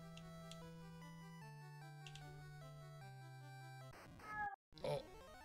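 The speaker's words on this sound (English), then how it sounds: "Oh, oh, there's the cat." A deaf house cat meows faintly over steady chiptune music from an NES game, its cries brief and soft near the end.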